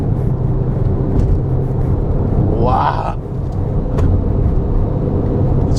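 A Peugeot 2008 GT-Line SUV accelerating in sport mode, with a steady loud engine and road rumble from inside the cabin and a brief rising whine partway through. A person talks over it.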